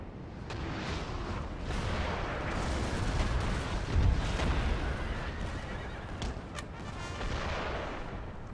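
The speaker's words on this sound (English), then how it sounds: "he's bombarding my cav" In the game Napoleon Total War, artillery bombards cavalry amid a dense battle roar, with horses neighing and deep booms and scattered gunfire rising over a constant din.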